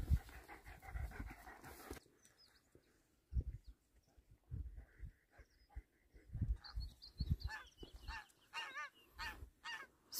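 A hot dog pants in quick, breathy bursts close to the microphone, joined by faint honking birds in the background on open moorland by a reservoir.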